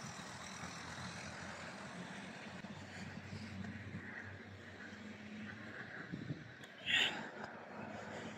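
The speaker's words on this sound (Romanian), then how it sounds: "Este foarte mult zgomot de la aceste tiruri, de la aceste mașini." Heavy trucks and cars pass along a riverside road by the Danube at Orșova, a steady broadband traffic rumble with a brief louder burst like a passing vehicle or air brake near the end.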